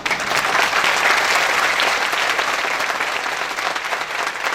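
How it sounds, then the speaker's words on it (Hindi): Audience at a sales team training session claps together in a dense, steady burst of applause that stays loud and even for the whole stretch, with no voices standing out. "जिस हिसाब से ताली बजाइए, पूरा बदला ले लेंगे सारी जिंदगी में।"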